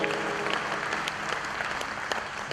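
An audience at a poetry recital honouring martyrs claps in steady, moderate applause, a dense field of overlapping hand claps that holds evenly throughout without cheering.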